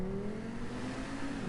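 A hybrid car engine in GTA Online hums steadily with a rising and falling whine, a smooth electric-sounding drone heard close for a brief moment.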